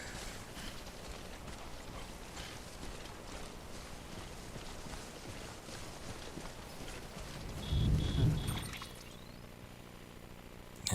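Timefall rain patters steadily in Death Stranding, a soft, continuous hiss with rhythmic footstep-like taps, then a low rumble swells briefly before the sound thins out.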